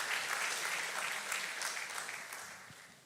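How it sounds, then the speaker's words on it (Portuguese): A church congregation applauds after the preacher calls for praise to the Lord, with steady, dense clapping throughout that gradually eases toward the end. "Você pode dar um aplauso ao Senhor?"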